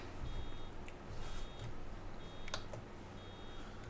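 Fill-level buzzer in Farming Simulator 22 sounds as a faint, high electronic beep in short bursts roughly once a second, thin and quiet over a low steady background hum.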